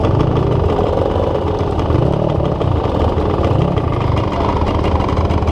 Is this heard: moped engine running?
yes